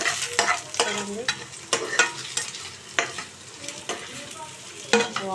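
Pieces of taro root (chama dumpa) fry in a pan, a busy crackling sizzle punctuated by repeated scraping strokes of a spatula, close and fairly loud.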